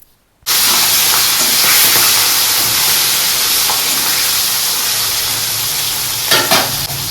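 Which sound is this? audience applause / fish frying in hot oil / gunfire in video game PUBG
fish frying in hot oil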